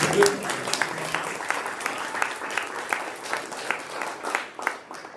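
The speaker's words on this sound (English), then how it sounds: "Y'all want to clap for him one more time?" An audience at a church celebration claps once more for a guest, a steady round of applause with distinct individual claps, tapering slightly toward the end.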